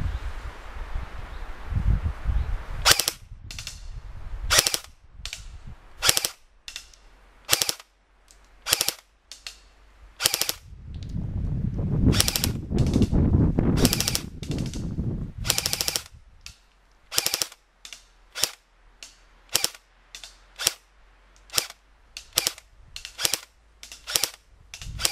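An ASG STEN MK2 airsoft gun fires outdoors in light wind, single sharp snapping shots in an irregular string with short pauses between them, close and crisp over rustling leaves and faint breeze.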